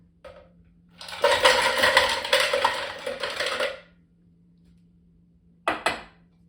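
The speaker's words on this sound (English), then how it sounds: "we're going to start off with the ice and pour it into the blender" A burst of ice cubes clattering and rattling into a blender for a few seconds, then silence and a brief final clatter.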